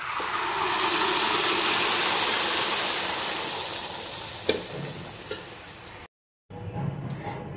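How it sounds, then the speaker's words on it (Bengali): Boiled lentils sizzle and fry loudly in a pan for several seconds, with a steady hiss that fades slightly and a few clinks of stirring, before a short silence and a softer resumption. "এটা বেশ করে নেড়ে নেব"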